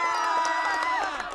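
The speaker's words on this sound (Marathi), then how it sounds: "एकदा जोरदार टाळ्यांचा गजर" Crowd at a village cricket tournament match cheering and shouting after back-to-back sixes, a dense, steady roar of many voices with whoops and faint clapping throughout.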